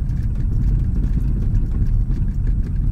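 An old Toyota Soluna engine hums with a steady, loud, close rumble, lightly revved with only a small rise in pitch and no talk over it.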